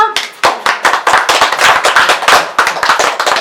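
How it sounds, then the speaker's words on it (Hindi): A small group claps for a third prize winner at an old age home event, with sharp, loud individual hand claps in uneven bursts and short pauses between rounds. "जोरदार तालियां।"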